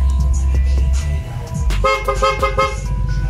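A Mio Gravis motorcycle horn fitted with a PRZM Trident toots close and loud in a quick series of short honks, over a steady low idling hum.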